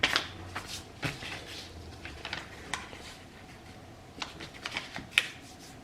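Sheet of paper folded and creased by hand into a seed starting cup, a run of dry crinkles, taps and sharp crisp snaps close by, with no one talking.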